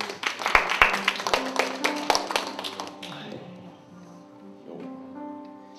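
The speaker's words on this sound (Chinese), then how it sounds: "再一次用掌声谢谢玉芳" Brief round of hand clapping at a Christmas and birthday fellowship party, several sharp claps in the first seconds fading as a sustained musical tone takes over.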